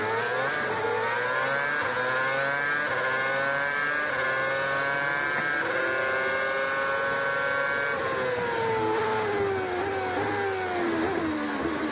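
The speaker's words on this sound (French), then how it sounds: "Depuis la voiture de Kimi Raikkonen." Onboard engine of Kimi Raikkonen's 2013 Formula 1 car at the Italian Grand Prix, a loud continuous high-revving scream climbing through gears and easing off toward braking, heard close and alone.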